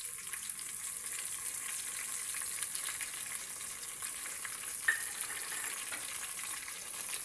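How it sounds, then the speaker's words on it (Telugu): Steady, dense sizzle of ghee frying sliced onions in a pan, a continuous hiss throughout with one brief faint clink partway through, close up and without speech. "ఇందులో నెయ్యి వేసేసుకుందామండి."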